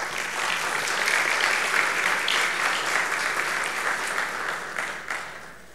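Sustained applause from the audience at the opening session of a conference after a management report, a thick, even wash of many hands clapping at steady loudness throughout, with no speech over it.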